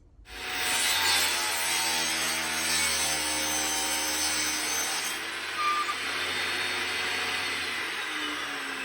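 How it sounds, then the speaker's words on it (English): Plywood being cut for a box to hold a bronze statue, a steady power-saw whine running continuously for several seconds at close range with no talk. "Now this will go, and I'll cut it right here."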